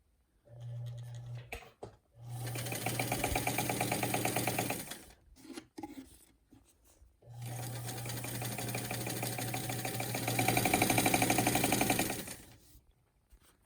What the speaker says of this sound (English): I'm just going to sew so you can hear how this machine is